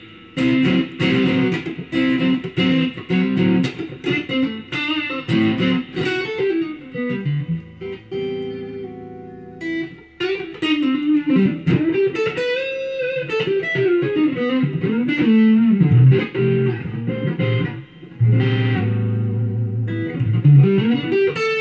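Bright, chiming notes from a Suhr HSS electric guitar ring out in a clean, glassy tone, played as a melodic phrase with sustained notes and short pauses between passages.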